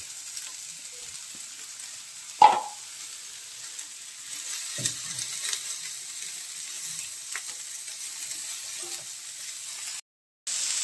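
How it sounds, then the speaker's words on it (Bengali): Chilli, capsicum and onion frying in hot oil on a tawa, a soft steady sizzle with a few sharp clatters of a spatula and brief knocks, no voices. "প্রথমে দিলাম লঙ্কা, তারপরে দিলাম ক্যাপসিকাম, তারপর একটু পেঁয়াজ দিয়ে এটা হালকা করে ভেজে নেব।"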